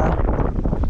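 Wind gusts across a microphone beside a tilapia fishing pond, a loud, continuous buffeting rumble with no voices.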